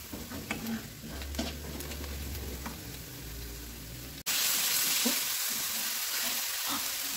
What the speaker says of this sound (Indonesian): kita masukkan bawang bombaynya kita aduk-aduk sampai harum